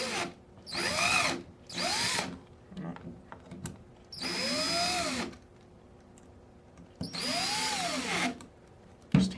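Power drill driving small screws with a 5/64 bit while installing a US Army Carver One E-Trigger kit. Four close, loud whirring bursts of varying length, separated by short quiet gaps.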